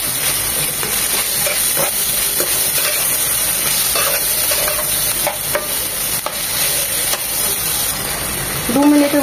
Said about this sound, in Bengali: দু মিনিটের মতো ভাজার পর হাই হিটে চিকেনগুলো কুক হয়ে গিয়েছে